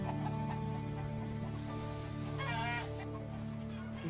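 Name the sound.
chickens clucking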